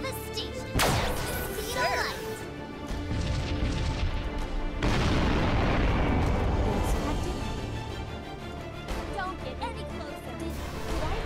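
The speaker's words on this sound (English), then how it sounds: "I'm firing my laser." Laser fire and explosions in the Sunrider tactical space game, a dense continuous barrage of booms, blasts and crashes with sharp bursts, heard beneath steady talking.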